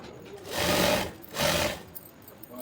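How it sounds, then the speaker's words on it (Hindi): Two short bursts of a sewing machine running, stitching elastic onto palazzo trousers, each a rapid whirring rattle separated by a brief pause, close and fairly quiet. "इस तरह से पूरा सिलाई लगा के हम ले लेंगे।"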